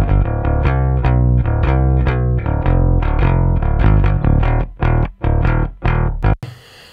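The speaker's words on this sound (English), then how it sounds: "So firstly, we have a clean bass DI." A clean bass guitar DI plays a steady run of plucked notes, loud and dry, ending with a few separated notes and a brief click.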